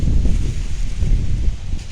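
Cold wind blows through a forest in Laos, a steady low rushing roar with buffeting gusts on the microphone, loud and continuous throughout.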